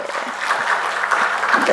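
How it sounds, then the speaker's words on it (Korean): A church congregation claps during a Sunday morning service, a short burst of steady applause mixed with some voices. "김지영 성도님 그리고 이희진 성도님 박수 부탁드립니다"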